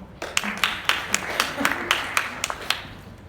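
An audience at a talk on rape culture claps at a brisk, even pace, roughly a dozen sharp hand claps standing out over a steady wash of lighter clapping throughout.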